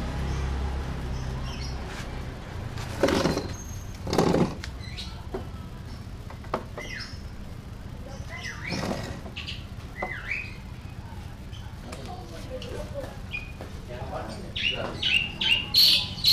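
An oriental magpie-robin (kacer) kept in a cage calls in short bursts of chirps, whistles and squawky phrases, nearby and moderately loud, with quiet background noise between phrases.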